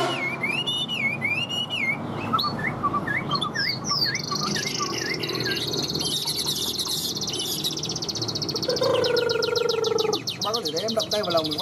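A hwamei songbird with a yellow beak and yellow feet sings in a cage, pouring out a long, loud, varied run of clear whistles, rapid trills and chirps that carries on continuously up close.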